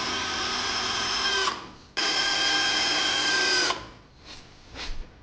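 A power drill drives screws into a wooden floating shelf in two long, loud whirring bursts, the motor winding down between them, followed by a couple of softer rising whirs, close up.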